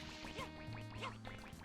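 Cartoonish duck quacks from Super Mario Sunshine on Gelato Beach, several short quacks repeating over steady game music and ambience.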